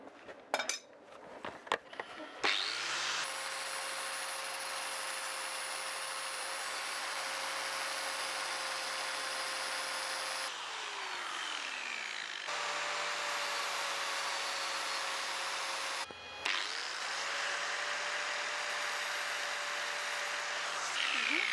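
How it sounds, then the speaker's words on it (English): Lathe spinning a custom stainless steel water tank vent for polishing, a steady loud motor whine held for long stretches, briefly cut off and restarted twice, with no talk. "I want to polish this now, so can I have my lathe driver back?"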